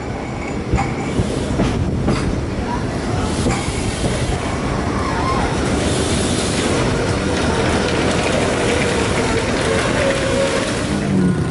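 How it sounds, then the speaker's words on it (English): Ekspres Rakyat Timuran passenger train arriving at Tumpat station on Malaysia's East Coast line, steady clickety-clack of wheels over rail joints with some squealing, heard from inside the carriages, continuous and fairly loud throughout. "Now the Ekspres Rakyat Timuran approaches its final destination, which is Tumpat."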